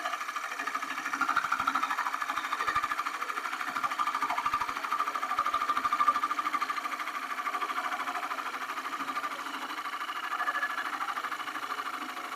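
A lathe tool takes an aggressive cut into dry box elder wood during woodturning, making a steady, continuous scraping whir with a machine-like hum that runs throughout, close and moderately loud, with no talk.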